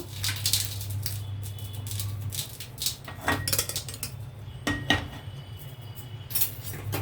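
Metal cooking pans and utensils clank and clink near at hand as a pan is lifted off and another set on a stove while preparing drumstick curry, a few sharp knocks over a low steady burner hum.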